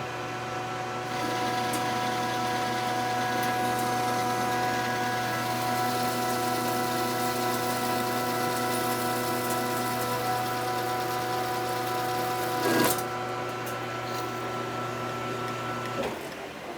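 A metal lathe turns a half-inch mandrel at a high feed rate of nine thousandths per revolution, a steady, close mechanical whine and hum with a brief clunk late on before the motor note drops away.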